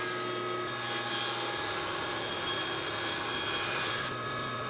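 A table saw trims one side of a plywood form, giving a loud, steady, close-up rasping cut with a high whine, sustained for nearly five seconds without pause.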